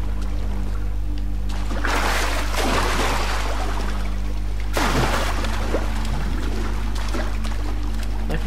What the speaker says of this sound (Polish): wpadł do wody